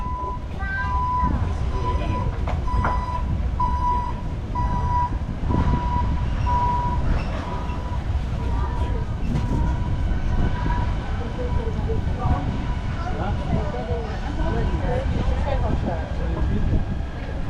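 Toronto Zoo Zoomobile ride vehicle rolling into its station: a steady rumbling drive with a repeating electronic tone and clatter, while a voice announces over the top throughout.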